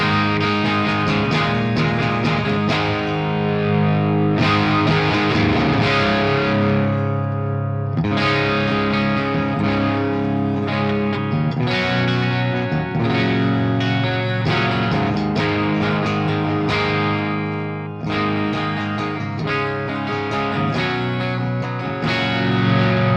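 An electric guitar on the bridge pickup through an Axe-Fx III Trainwreck Rocket amp model plays chords and riffs with a slightly gritty, effected tone, steady and fairly loud with brief pauses between phrases, no talking.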